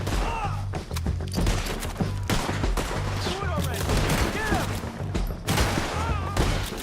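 Heavy gunfire in a shootout in the Western video game Red Dead Redemption 2, with rapid overlapping shots and cracks coming close and loud throughout, under shouting voices.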